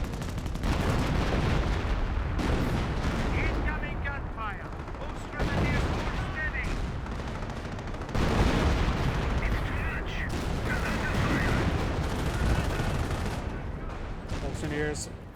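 Dense artillery barrage and gunfire from the strategy game Company of Heroes, with heavy rumbling blasts and crackling shots rolling continuously as a commentator talks over the battle.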